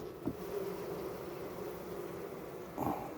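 Bees buzzing close by at hives outdoors during beekeeping work, a steady droning hum that swells briefly louder near the end.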